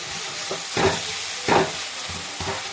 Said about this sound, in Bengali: তাই একটু হাতা দিয়ে এইভাবে ডলে দিচ্ছি